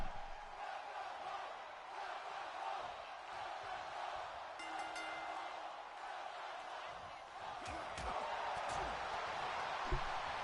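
A WWE 2K arena crowd chants and roars in a steady wash of noise, with a few clanks and thuds rising near the end.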